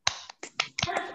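A classroom group claps a quick rhythmic spirit clap, five crisp claps in a syncopated pattern with the last ones blurring together, close and loud with no talking.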